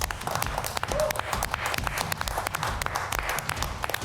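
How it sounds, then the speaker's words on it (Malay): Contestants on a senior-versus-junior cooking competition show clap for themselves, a steady patter of many hands under a faint voice. "berikan tepukan kepada diri anda sendiri"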